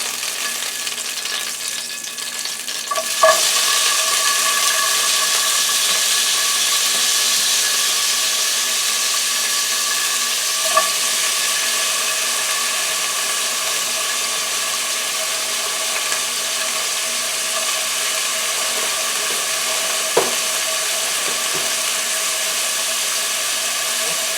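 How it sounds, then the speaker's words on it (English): Frozen onions fry in a pan with a constant, loud, close hissing sizzle that lasts throughout. A few soft knocks sound now and then, and no one speaks. "So let's fry up some onions."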